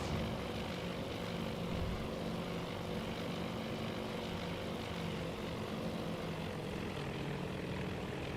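Propeller aircraft engines of a bomber formation in the Midway battle of the game Task Force Admiral, a steady, dense droning roar that holds without a break.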